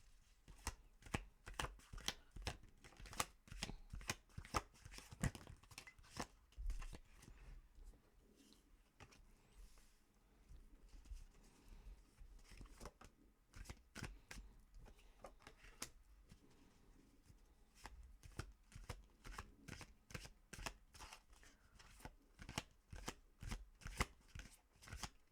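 Tarot cards are shuffled by hand, giving a long run of rapid, crisp riffling and slapping clicks in an uneven rhythm, close and fairly soft, with no talk.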